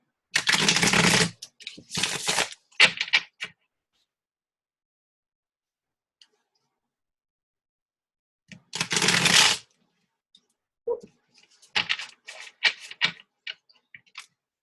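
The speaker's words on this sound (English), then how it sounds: "So we will shuffle" A deck of Tarot of Nymphs cards is shuffled in several brisk bursts of riffling and flicking, close and crisp, separated by long silent pauses.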